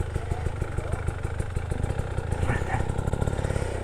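An enduro dirt bike engine runs with a steady, close, rapid putter and chatter on an extreme enduro trail, with a couple of brief high sounds partway through.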